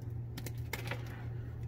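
Scissors cutting plastic zip ties on aquarium power cords, a few quick close snips clustered together over a steady low electrical hum.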